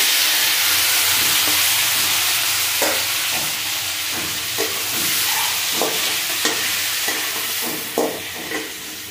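Tomatoes sizzle and fry in a pan with mustard seeds and dried red chillies, a steady hiss punctuated by intermittent scraping stirs, close and fairly loud with no talking.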